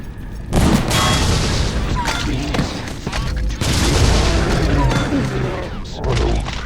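Rapid, heavy gunfire from the overpowered Gonzo gun in the horror action video game The Suffering, loud booming bursts that run almost continuously with brief breaks, a voice talking faintly underneath.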